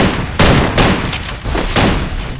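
Rapid bursts of gunfire from the video game Free Fire, loud, dense and continuous, with several sharper volleys at close range and no talking.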